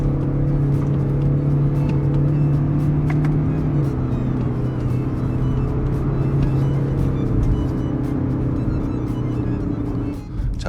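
A 2019 BMW X4 20d M Sport diesel SUV is held at high RPM while driven into a curve, producing a steady, loud engine drone with a low hum that persists throughout.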